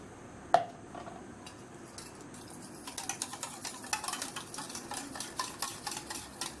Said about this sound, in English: So we're gonna just stir it.